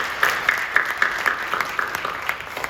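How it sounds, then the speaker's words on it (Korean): Applause from a church congregation during a worship service, a steady clapping texture of many hands held at moderate level for a few seconds, with no voices over it. "박수해 주시죠."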